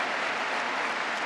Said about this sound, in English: Really good crowd here reacting to each call of ball or strike from Alan Porter